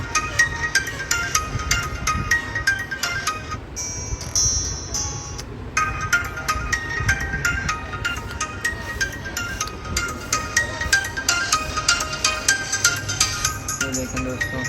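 A ringtone plays from an Infinix Hot 8 X650 smartphone after a speaker repair, a loud repeating melodic tone pattern running through most of the stretch with a brief break partway.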